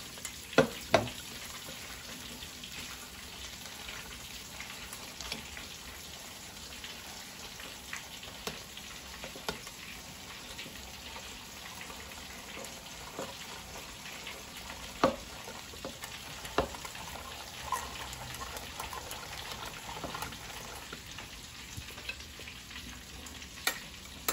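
Food fries in a pan with a soft, continuous sizzle and crackle, broken by occasional sharp pops and stirring clicks, fairly quiet and close, with no talking.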